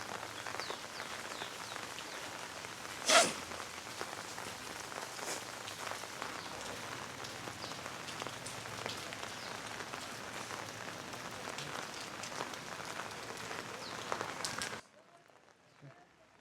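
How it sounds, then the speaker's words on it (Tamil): Steady rain falls during a trip in Thailand near a standing Buddha statue, a dense even hiss of drops with one sharper spatter partway through, then cutting off abruptly near the end. "மழை வெதுண்டு இருக்குது"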